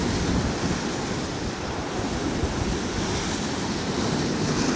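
Big sea swells crash and wash continuously on a rocky fishing shore, a dense roaring surf with wind buffeting the microphone, steady and loud with no voices.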